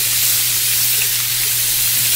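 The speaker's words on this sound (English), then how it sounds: "And you can hear it sizzling, and that's exactly what we want." Steak and onions sizzle in a hot pan with a steady, loud, close hiss that holds evenly throughout, with no voices.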